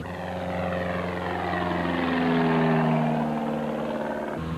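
A light propeller airplane drones steadily in flight as it starts a right turn at about 500 feet. The engine and propeller hum is loud and continuous, with a slight swell in pitch and volume partway through, and no voices are heard.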